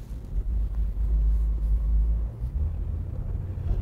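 A 1965 Ford Mustang muscle car, rotisserie restored, drives with a deep, steady low rumble of engine and road noise, loud and continuous without pause.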